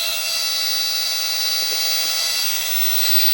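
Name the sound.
Dremel rotary tool power carving wood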